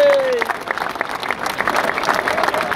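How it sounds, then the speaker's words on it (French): Crowd clapping fills the outdoor square at a football club celebration in front of the town hall in Martigues, loud and continuous. "Un tonnerre d'applaudissements pour Ilyes Zouaoui."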